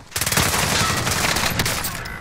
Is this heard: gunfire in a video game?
yes